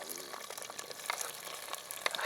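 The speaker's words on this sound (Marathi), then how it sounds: "कांदा घालूया" Onion frying in oil in a clay pot over a wood-fired clay stove gives a soft, continuous sizzle with faint crackles. No one speaks over it.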